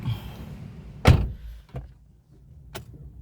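A 2007 Nissan X-Trail T30 door shuts with one solid thunk, followed by a couple of fainter clicks and knocks inside the cabin.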